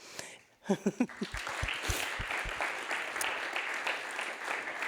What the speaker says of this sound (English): So I want to thank them maybe with a huge applause.